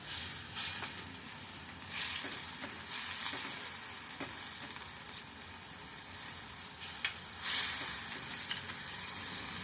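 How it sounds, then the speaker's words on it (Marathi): Drumstick vegetable curry fries in oil over a low flame with a soft, even sizzle, broken by repeated light stirring scrapes and a brief louder hiss near the end. "तेल सुटेपर्यंत असे हलवत राहणार आहे मंद आचेवर"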